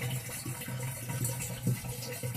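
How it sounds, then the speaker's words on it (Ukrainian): Spring water at St George's spring flows without pause, a steady low rushing and trickling wash running close by, even and unbroken for the whole stretch with no voices. "Ось так вода тече цілодобово."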